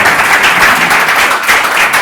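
Audience at a conference on the historic Godella stone quarries breaks into applause, a dense, steady wash of many hands clapping close by for a couple of seconds with no talk over it.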